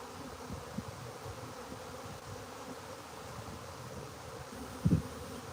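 A honeybee swarm on a farm hums in a steady, faint, continuous drone, with a couple of brief louder bumps near the end.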